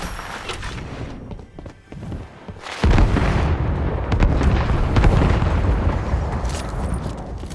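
Explosions from grenades in the video game Fortnite, a sudden loud burst followed by a rolling, rumbling blast that lingers several seconds.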